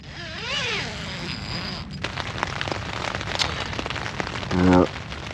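Rain patters and crackles on surfaces at a campsite on Crayfish Island, a continuous close hiss with scattered drops, while a voice is briefly heard over it.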